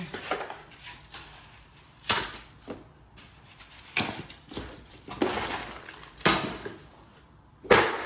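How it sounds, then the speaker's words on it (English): A Nilight LED light bar is unboxed nearby, with irregular clatters, knocks and rustles of packaging and parts landing at uneven intervals between short quiet gaps. "Okay, so let's go ahead and get this unboxed."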